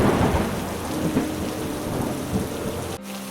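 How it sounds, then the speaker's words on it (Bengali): Heavy rain pours steadily onto surfaces in a cartoon storm scene, with low rumbling thunder rolling beneath the dense downpour, loud and continuous until an abrupt cut near the end. "বৃষ্টি ক্রমশ বাড়ছে, ঠান্ডা বাতাস বইছে, আকাশে কালো মেঘ।"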